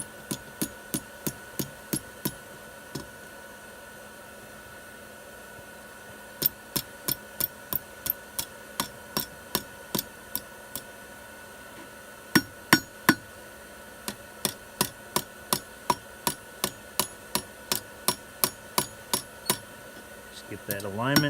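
A hot steel hook tip is hammered on an anvil in bursts of sharp, ringing metallic strikes in quick even rhythm, close and loud, with pauses between the runs and no talking.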